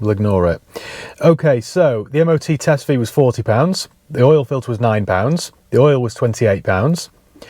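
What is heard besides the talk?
None of the usual background noises is heard.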